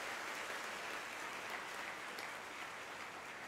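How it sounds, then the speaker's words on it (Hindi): Steady applause from a large crowd at a political gathering fills the whole moment, dense and even, heard from some distance without a break. "जोरदार ताली बजाओ"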